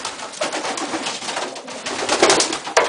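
Racing pigeons coo steadily inside their loft, a dense, continuous murmur of many birds close by, with one sharp knock near the end.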